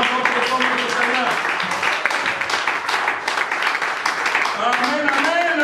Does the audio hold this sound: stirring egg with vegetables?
no